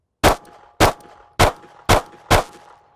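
Five pistol shots fired at a steel plate rack at an even pace about half a second apart, each a loud sharp crack with a ringing clang from the struck plate, close and with no talk.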